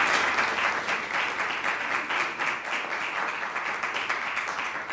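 An audience at a music masterclass applauds in a sustained, dense round of clapping that stays steady and fairly loud throughout, with no talking over it.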